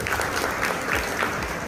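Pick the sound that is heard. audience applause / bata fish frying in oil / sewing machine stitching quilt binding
audience applause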